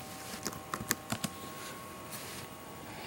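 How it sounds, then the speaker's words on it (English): Several quick computer keyboard keystrokes as an artist's name is typed, a short burst of clicks in the first second and a half, fairly close and alone over a faint steady room hum. "You type in an artist, like, let's type in Lil Wayne."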